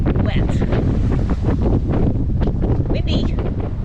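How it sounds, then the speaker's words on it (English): Strong 26 to 30 knot wind buffets a Nordhavn 50 motor yacht at sea off the Bahamas, a loud steady roar and rumble of gusts across the microphone, with faint voices underneath. "We're seeing anywhere between 26 and 30 knots of wind"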